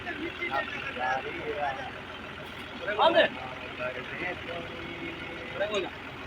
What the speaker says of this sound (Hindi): दोनों ट्रैक्टर ज़ोर लगाएंगे, इंशाल्लाह ये फिर निकल जाएगा